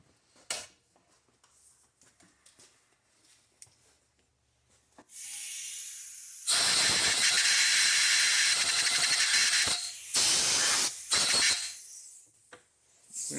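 Compressed air blasts loudly through a freshly cleaned valve guide in a Kohler Magnum M18 engine head, coming as a long sustained hiss followed by two shorter bursts after quieter handling noises.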